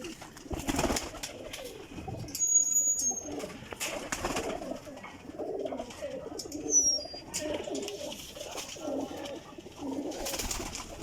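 Pigeon cooing from a breeder's loft of high-quality flying pigeons, a steady murmur of soft coos with occasional chirps and a couple of brief high whistles, fairly close and continuous throughout.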